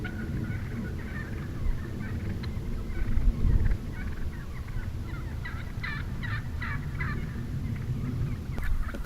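Wild turkeys in a Colorado parking area gobble in a quick cluster of rattling calls midway through, moderately distant over a low outdoor background rumble, with no talking.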